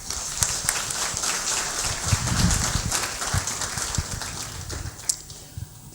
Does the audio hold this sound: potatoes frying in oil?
no